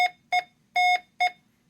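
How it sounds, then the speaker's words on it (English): Morse code from a CW keyer driven by paddles at 18 words per minute: a steady pure tone keyed into four crisp beeps of mixed short and long length, clean and alone with no voices. "I've got it set to 18 words a minute, and it sounds like this."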